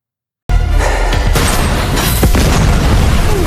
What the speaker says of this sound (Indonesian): ditembak oleh Pran hingga menimbulkan ledakan